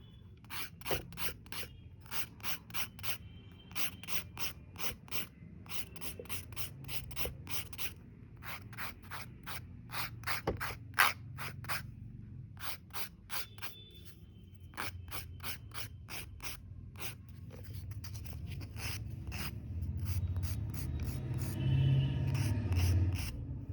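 A nail file rasps back and forth across gel nails during removal, producing quick, even strokes in bursts with short pauses, close and clear, with a low background hum that builds toward the end.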